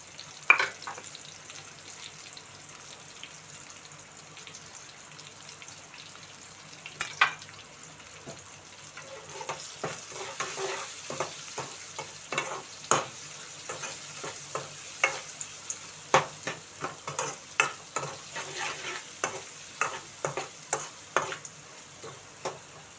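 Onion slices frying with salt and turmeric for a chicken gongura curry, a steady sizzle with sharp stirring scrapes and clicks that grow busier and louder in the second half, no voices.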